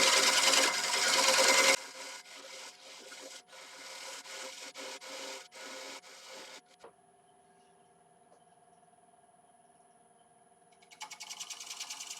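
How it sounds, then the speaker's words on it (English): Ash branch wood turned on a lathe at 500 RPM with a 3/8 spindle gouge, a steady scraping, rasping hiss of cutting that drops away into a quiet motor hum before cutting briefly resumes. "I'm just going to use a little 3/8 spindle gouge. Just slowly nibble it away."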